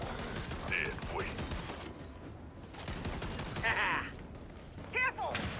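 Gunfire in the Gears 5 video game, a steady rattle of shots and bursts running throughout under the players' voices, with louder moments near the end.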